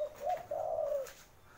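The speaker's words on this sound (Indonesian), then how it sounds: "nah itu sana juga ada puter, puter putih sama tekukur ya" Ringneck doves and spotted doves at a bird farm give a soft, nearby cooing call, a short note rising into a longer drawn-out coo, heard alone without speech.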